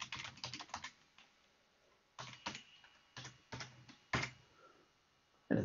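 Keystrokes on a Dell XPS 13 9360 laptop keyboard as a Wi-Fi password is entered, falling into quick clusters of crisp, light clicks separated by short pauses, close up and fairly quiet.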